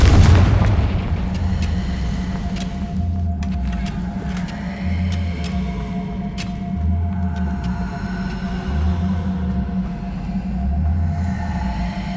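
Hogwarts Legacy's Confringo explosive curse spell goes off with a sharp blast at the start, then a deep rumbling boom rolls on beneath pulsing low game sounds.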